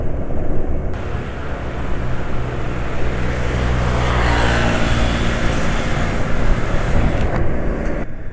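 Car engine lubricated with Petro Canada Duron HP 15W-40 oil runs at mid RPM, a loud, steady, slightly rough hum and rumble held throughout without speech.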